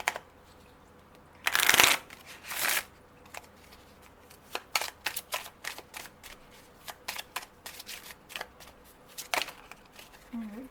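A Mystic Moon oracle card deck being shuffled by hand: a loud riffling burst near the start, then a run of quick, crisp card slaps and flicks at an uneven pace, close up with no speech.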